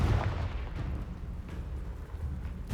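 A Confringo spell blast in the Hogwarts Legacy game lets out a low, rumbling boom with heavy bass that rolls on at a moderate level, with fainter thuds following.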